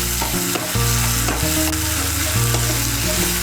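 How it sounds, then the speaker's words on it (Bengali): Ginger, garlic and green chili paste frying in oil for palak paneer, a loud, steady sizzle up close with music playing over it. "আদা বাটা, রসুন বাটা আর কাঁচা লঙ্কা বাটাটাকে তেলের সঙ্গে মিশিয়ে নিয়েছি। মিশিয়ে নিয়ে একটু ভেজে নিয়েছি।"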